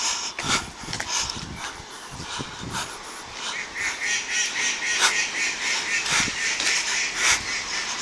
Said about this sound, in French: Pas content le canard.